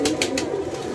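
A pigeon coos in short repeated bursts close by, with a steady background hum throughout.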